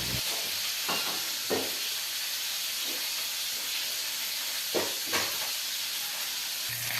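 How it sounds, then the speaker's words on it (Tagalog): Fish frying in a pan gives a steady, loud, hissing sizzle throughout, with a few soft clinks and pops over the constant spatter. "habang naguhulat kita nga maprituan isda"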